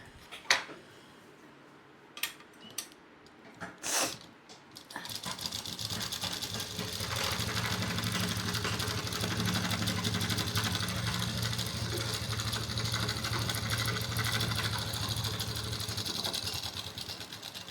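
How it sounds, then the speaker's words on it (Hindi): A sewing machine hums loudly and continuously for over ten seconds while sewing a double line of stitching on fabric for pocketed underwear shorts, after a few sharp clicks and taps. "अब हम करेंगे इसकी डबल सिलाई"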